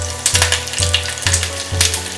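Fenugreek seeds, cumin and green chillies frying in hot oil in a pan, a loud steady sizzle with crackling bursts about every half second, close up and with no talk.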